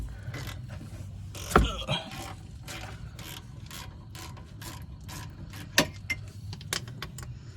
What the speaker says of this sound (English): So on your caliper bolt, you just loosen it. It shouldn't be too tight.